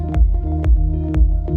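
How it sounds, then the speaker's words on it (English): An electronic kick drum and bass line in a style of electronic music, with three deep thumping kicks at a relaxed pace over a sustained bass tone, loud and up close with no voice. "So with the kick and the bass, it sounds like this."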